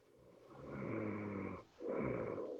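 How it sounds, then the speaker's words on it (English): A person snoring during a live call-in broadcast: two long, rasping snore breaths, the first swelling slowly and the second following after a brief pause, fairly close and steady with no talk over them. "is there somebody snoring?"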